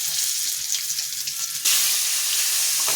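Snake gourd (chichinga), still wet with water, frying in hot oil with green chillies. A steady close sizzle jumps suddenly louder and harsher as the gourd goes into the pan, with no talking.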